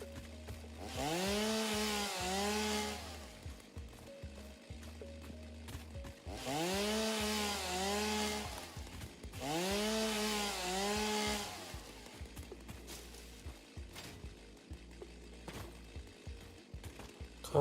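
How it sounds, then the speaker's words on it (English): A chainsaw in the video game Satisfactory revs in three separate bursts of about three seconds each, a loud rising and falling buzzing whine with quiet pauses between them and no talking. "Oh, I changed it in chainsaw mode somehow."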